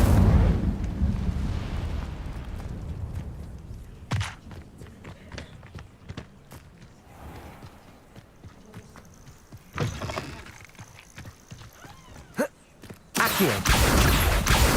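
In Hogwarts Legacy, an Incendio fire spell goes off as a brief whooshing burst amid footsteps and other combat hits, with a loud surge of flame near the end.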